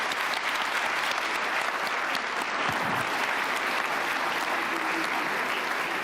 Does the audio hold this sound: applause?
yes